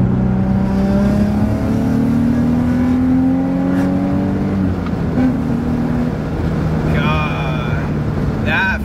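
An Infiniti G35 / Nissan 350Z fitted with an aftermarket intake accelerates from a stop in normal driving, its engine note rising steadily through the gears, with a shift break midway and a whooshing intake sound, loud and close inside the car.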